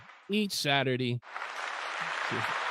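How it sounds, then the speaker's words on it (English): A canned applause effect plays on a live stream, a steady hiss of clapping that swells in after a short burst of speech and holds fairly loud to the end, with a brief voice fragment near the close. "This applause is for you guys for being a part of the Huddle and just coming on each Saturday."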